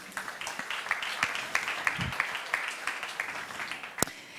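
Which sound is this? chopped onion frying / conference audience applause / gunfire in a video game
conference audience applause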